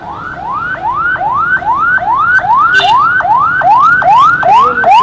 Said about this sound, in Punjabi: ਐਂਬੂਲੈਂਸ ਨੂੰ ਮੁਸੀਬਤ ਬਣੀ।